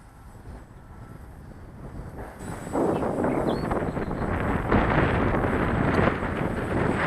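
Gusty wind buffets the microphone at an open airfield during a scale Sonic Modell Cessna 182 model plane flight, a steady low rumble that swells louder about midway and stays strong.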